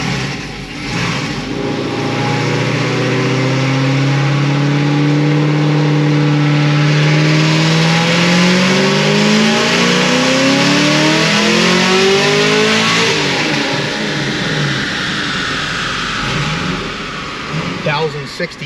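A Procharged LT1 Camaro on pump gas, making over 1100 rear-wheel horsepower on a chassis dyno: the engine winds up in one long, loud rising rev, then drops away and settles, very close, with a voice heard faintly.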